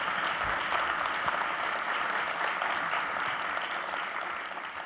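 Audience at a presentation in Berlin clapping, a dense, even wash of applause from a large crowd that holds steady and slowly fades.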